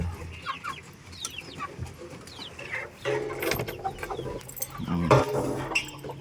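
Rhode Island chickens clucking in a backyard flock, with scattered nearby clucks and squawks that grow busier and louder toward the end, over faint background noise.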